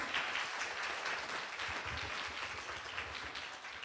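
A health conference audience at a Fundação de Vigilância Sanitária event applauds the speakers, a soft, even patter of many hands clapping at a distance, continuing steadily throughout.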